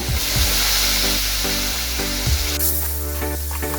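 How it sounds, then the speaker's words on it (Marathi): Potato slices fry in a masala of turmeric and red chili powder in a pan, giving a loud, steady sizzle with occasional stirring knocks. A continuous tonal hum runs underneath, and no one speaks. "आता आपण ह्या बटाट्याच्या कात्र्या या मसाल्यामध्ये छानपैकी अशा फ्राय करून घेऊया"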